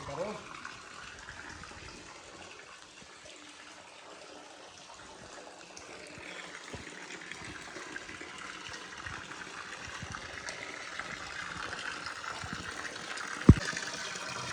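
Water flows steadily from the Gomukh spring spout at Mount Abu, a soft continuous trickle that grows slightly louder toward the end, with a sharp knock near the close.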